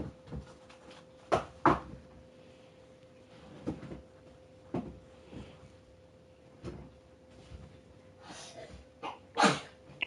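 A few sharp sneezes burst out close by at irregular moments indoors, separated by quieter breathing and small rustling movements, with no talk alongside.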